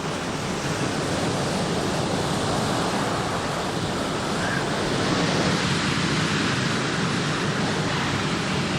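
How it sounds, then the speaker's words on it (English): Ocean waves and surf wash steadily onto a beach, a loud continuous broadband roar with no clear breaks across the whole stretch. "nobody could hear a thing over the ocean"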